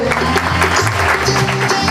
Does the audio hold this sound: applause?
yes